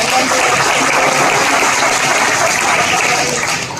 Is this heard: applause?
yes